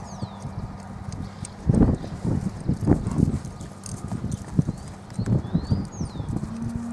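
Hoof clip-clop from a 3.5-year-old chestnut horse, a criollo cross in Castelli, Buenos Aires, walking on firm ground: uneven close hoof falls with a few louder thuds, birds chirping faintly in the background and no talk.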